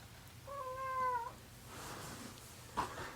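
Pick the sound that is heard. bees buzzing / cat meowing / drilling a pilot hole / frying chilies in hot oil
cat meowing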